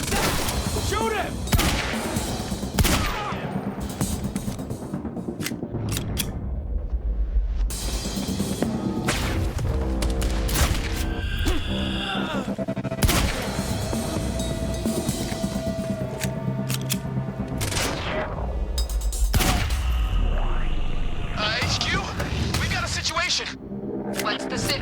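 Bursts of gunfire from the video game Quantum Break crack out in sharp repeated volleys among loud impacts and rumbles, with people shouting and talking throughout.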